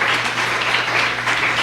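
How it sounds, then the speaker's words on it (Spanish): A church congregation applauds, a steady wash of clapping filling the whole brief moment at an even, fairly loud level with no speech over it. "Dele un aplauso al Señor, hermano."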